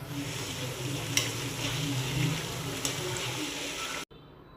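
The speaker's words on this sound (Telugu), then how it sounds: "స్టవ్ సిమ్లో పెట్టి సగం వేగే అంతవరకు వేయించుకున్నాం అనుకో క్రిస్పీగా వస్తుంది" Rice flour chips frying in oil on a stove over low flame, an even bubbling sizzle with a couple of sharp clicks, ending in a sudden cut to near quiet.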